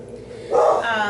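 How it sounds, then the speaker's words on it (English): A single close, loud dog bark breaks out midway through a quiet indoor workshop moment, followed by a short ringing tail. "Oops, sorry about the dog."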